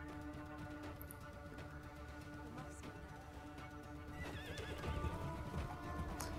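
A horse whinnies and its hooves clop in the video game Crimson Desert, with game music and ambience underneath, moderately loud and with no talk.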